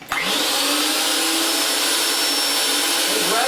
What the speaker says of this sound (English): Bring the cutter down in position. Tighten it lightly against the pipe.